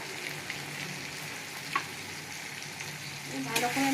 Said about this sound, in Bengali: ভালো করে আমি একটু মশলার সঙ্গে কষিয়ে নেব। ভালো করে নেড়ে নিচ্ছি।